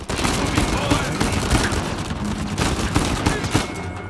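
Dense, continuous machine gun fire rattles loudly through a chaotic firefight in the video game Uncharted 4: A Thief's End, bursts overlapping with impacts and a voice talking under the gunfire.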